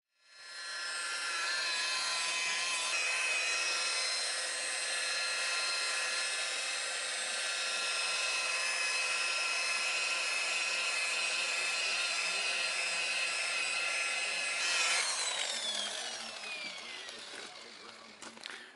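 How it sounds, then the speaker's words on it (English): A power sander works over a car's clear coat during mobile auto body repair, a loud, steady high whir that holds for most of the stretch, then shifts pitch and tails off near the end. "by sanding it down like this, he'll have a smooth surface, take care of the bug"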